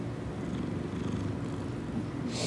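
A cat purrs close up, a low, continuous rumble that holds steady throughout without any talk.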